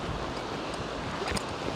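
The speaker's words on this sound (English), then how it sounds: "Those little glassy waves." Small glassy ocean waves at Seven Mile Beach, a steady broadband wash of surf with light wind across the microphone, continuous and fairly close.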